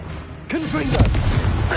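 A Confringo blasting spell fires in the Hogwarts Legacy video game, a sudden burst opening after a half-second lull, followed by a sustained rumbling boom with crackling bursts layered over it and a voice speaking over the blast.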